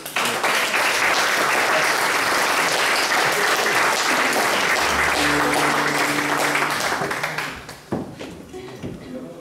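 An audience at a tribute evening on Faial in the Azores bursts into dense, sustained applause for a fado singer, loud and even before fading out near the end as a few scattered claps and sounds remain.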